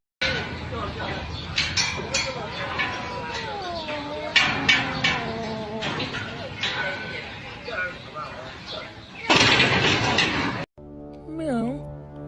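Cat meowing in a home, repeated drawn-out mewing calls rising and falling throughout, mixed with household clatter and a brief loud rustling burst near the end.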